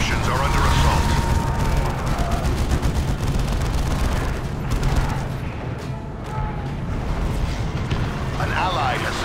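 Dense, continuous battle din from the Dawn of War 2 strategy game, with booming explosions and bursts of gunfire layered loudly throughout, under a game voice announcing alerts.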